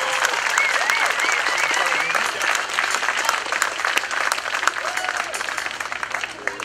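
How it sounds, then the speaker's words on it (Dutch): Sustained crowd applause at a scouting group's opening of a new harbour in Schoonhoven, dense and steady throughout, with a few whistles and voices mixed into the clapping. "Dus geef ze een applaus"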